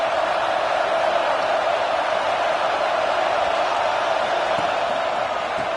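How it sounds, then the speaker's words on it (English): Football stadium crowd roars in a steady, far-off wash of cheering and noise, sustained and even throughout with no clear breaks. "This crowd knows when to bring it."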